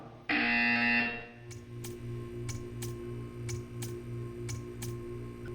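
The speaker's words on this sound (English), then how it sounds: "You will hear a buzzer." A loud electronic buzzer in the video game Portal 2 blares for about a second, then a quiet steady hum continues with a series of faint regular ticks.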